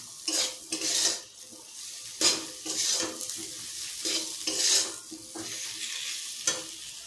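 Salted spices frying and stirred in a pan, a soft sizzle beneath repeated scraping strokes of a utensil against the metal, coming in irregular bursts, close and fairly quiet.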